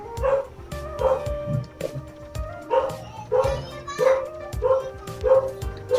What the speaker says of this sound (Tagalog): maingay yung mga aso natin kapitbahay.